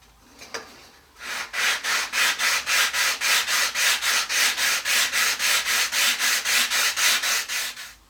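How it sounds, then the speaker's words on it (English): Hand sanding the glued edge of an MDF case, heard as about twenty quick, even back-and-forth strokes after a short pause with a few handling knocks. The rasping is close and loud, with a steady rhythm and no talk. "we're going to sand it ever so slightly, just to make sure that that edge there where we glued up to our main case is nice and flat"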